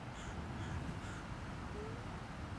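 A crow caws at an eagle on a beach, giving a few faint, distant calls over a steady outdoor background with no talking.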